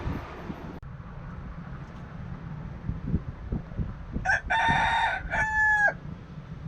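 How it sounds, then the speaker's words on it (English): A rooster kept in a box lets out a single loud, close crow of several stretched notes, rising over steady wind buffeting the microphone. "There's a chicken in the box."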